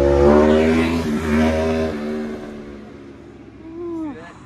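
A Honda Rebel 1100 DCT motorcycle engine revs hard for a wheelie, a close, loud snarl that climbs, dips and climbs again, then drops away into a quieter fading whine.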